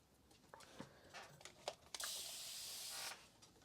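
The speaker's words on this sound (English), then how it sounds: "I'm just spraying the canvas so the paint moves around a little easier" Spray bottle misting water onto an acrylic painting canvas: a few short faint spritzes, then one sustained bright hiss lasting about a second, close and clear with no talking.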